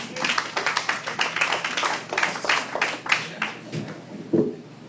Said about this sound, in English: big round of applause for Jason Clarke